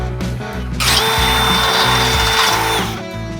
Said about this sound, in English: So I'm drilling it out to 7/16 to start